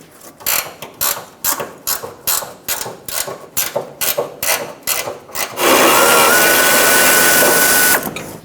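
A ratchet clicks off the 15mm mounting nut of the fuel tank strap on a Ford E-350 Super Duty 5.4L V8, with about a dozen evenly spaced ratcheting strokes, then a long steady spin, loud and close.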